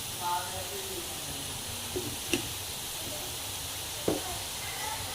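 Mooli paratha filling with dried coriander frying in a pan, a soft, steady sizzle and hiss with a few faint stirring clicks, under someone talking.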